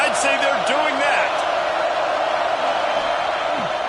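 A college football stadium crowd roars loudly and continuously during an Oregon timeout, and a commentator talks over the broad, sustained noise.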